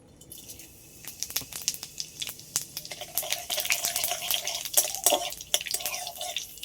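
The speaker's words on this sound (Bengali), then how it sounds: "আর তেলের মধ্যে ফোড়নে দিয়ে দেবো 5 ফোড়ন" Panch phoron spices dropped into hot mustard oil in a kadai, a crackling sizzle of quick sharp pops and spits that grows denser and louder as it goes.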